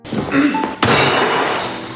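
A hammer slams down on a table with a sharp crashing impact, preceded by a lighter knock, then a ringing, smashing clatter that fades over two seconds.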